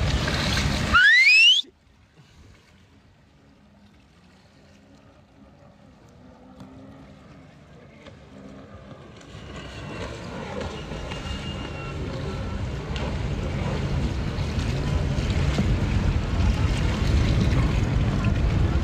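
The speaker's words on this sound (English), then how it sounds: "Okay, we got some jet skis and boat coming." Jet skis and a motorboat passing on open water, the engine and hull wash swelling from a low distant rumble to a loud, steady roar with broadband water and wind noise.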